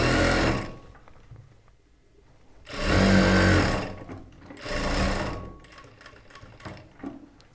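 Sewing machine stitching a folded churidar top, three separate bursts of whirring running with quiet pauses between, close and fairly loud with no voices.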